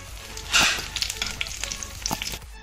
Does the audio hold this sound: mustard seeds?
yes